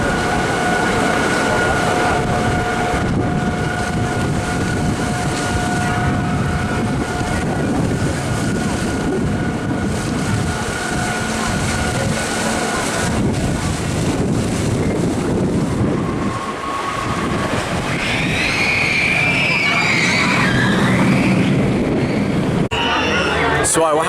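The Big Dipper, a century-old wooden roller coaster at Blackpool Pleasure Beach, rumbles and clatters along its track with heavy wind roar throughout, and riders' voices and screams come through near the end.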